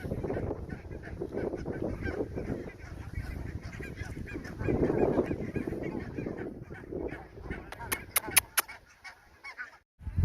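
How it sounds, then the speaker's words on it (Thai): Wild ducks outdoors near the Royal Palace in Sweden give loud, nasal honks, with a short run of repeated calls standing out near the end over steady outdoor background noise. "เป็ดธรรมชาติ"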